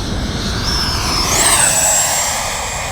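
A Freewing 80mm F-5 Tiger II RC jet with an electric ducted fan makes a loud, steady whine on its maiden flight, the pitch rising as it speeds past, with wind noise underneath.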